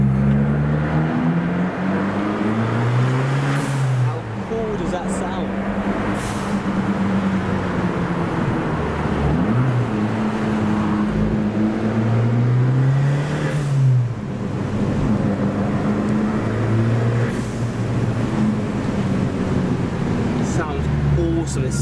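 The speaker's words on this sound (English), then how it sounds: "we're coming up to the famous F1 tunnel, where hopefully we're able to hear the exhaust." An Abarth 595's exhaust rumbles and revs up and down repeatedly, echoing in the Monaco Grand Prix circuit tunnel, with voices talking now and then.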